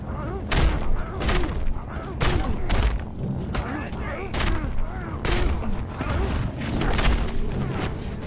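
Repeated weapon fire from new guns in the Mad Max video game, bursts of shots and crashing impacts across the whole stretch over a dense, loud game mix.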